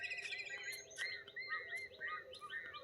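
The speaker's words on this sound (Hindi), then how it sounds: "ये सब पक्षियों की आवाज़ें हैं।" Birds chirp and tweet among dense trees over riverside farmland, a busy chorus of short, overlapping calls at moderate distance, quiet and without any talking.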